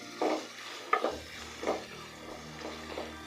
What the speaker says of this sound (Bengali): এগুলোকে এখন হাই হিটে আমি ভেজে নিচ্ছি।